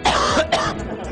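A man coughs twice right after a chest-beating monkey impression on stage, two short harsh bursts close to the mic.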